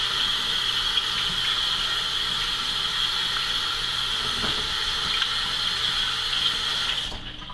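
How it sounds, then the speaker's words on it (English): Tap water runs steadily into a sink while hands are washed beneath it, a constant close splashing rush that fades out in the final moment. "Now I'm going to wash my hands real quick."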